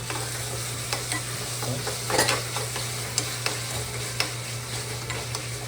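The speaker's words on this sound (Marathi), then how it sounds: "बस थोडासा सॉस टाकला आहे आणि त्यामुळे हलवतो" A spoon stirs masala pasta with a little sauce in a pan, making soft scraping taps at irregular intervals over a steady low sizzle and a faint constant hum, with no talking.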